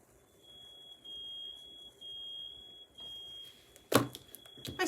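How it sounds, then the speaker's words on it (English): A smoke alarm sounds with a thin, high, steady electronic tone in two short bursts, then a longer stretch, before loud knocking and clattering noises close by. "My smoke alarms just went off."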